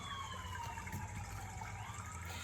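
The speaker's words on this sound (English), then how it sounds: "let's let that siren go by." A distant siren wails with slowly falling pitch as it passes, steady and faint against a low background rumble.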